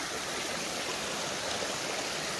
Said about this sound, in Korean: 이 맑은 계곡물이 흐르는 게 한 500m 가까이를 이렇게 가지고 있거든요